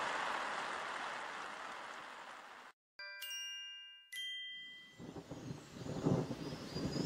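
Broad rushing noise like heavy rain, then bright chiming tones, then low rumbling that swells like distant thunder.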